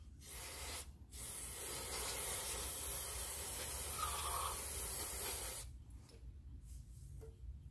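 Brake cleaner sprays in one long continuous hiss onto the front wheel hub of a BMW E46 M3 during a wheel bearing change, loud and close for about five seconds, then stops to quieter background.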